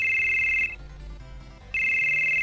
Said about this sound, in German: Telefon! Geh mal einer ran.